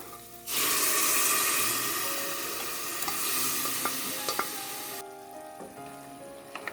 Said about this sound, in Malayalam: ഇനി ഞാനിതിലേക്ക് നമ്മൾ വേവിച്ച് വെച്ചിട്ടുള്ള മട്ടൻ ചേർത്ത് കൊടുക്കുകയാണ്